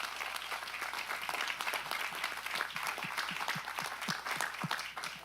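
Sustained applause from a crowd at a county supervisors meeting, steady and dense clapping filling the whole stretch at a fairly even level.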